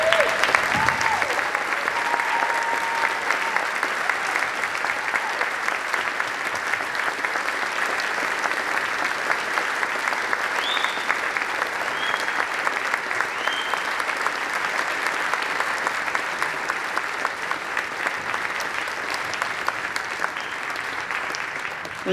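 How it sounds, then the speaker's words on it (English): Long, steady round of audience applause for military veterans at a big-band concert, dense and sustained throughout with a faint note of music or voice near the start. "we can all join in a big round of applause"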